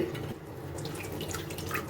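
Soaked sago pearls squeezed out of a bowl of water by hand while making crispy sabudana vada, a steady wet sloshing and dripping close by with small trickles and splashes.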